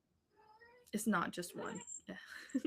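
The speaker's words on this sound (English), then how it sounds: "There's my cat." Pet cat meowing indoors, one faint drawn-out meow at the start, then a person talking over it.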